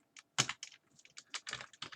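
Command typed on a computer keyboard on a Linux machine, heard as a quick, uneven run of close, crisp key clicks with short pauses between bursts and no talking.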